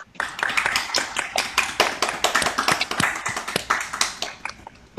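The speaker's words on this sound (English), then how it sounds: "let's have a round of applause for Angela" A small audience at a piano recital applauds the pianist's bow after a Beethoven sonata in G major, with brisk, continuous clapping heard close and fairly loud.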